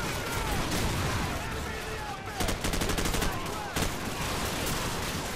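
Gunfire in Call of Duty: Modern Warfare, a sustained, loud barrage of rapid automatic shots and overlapping bursts throughout, with brief rhythmic volleys standing out midway and a voice speaking underneath.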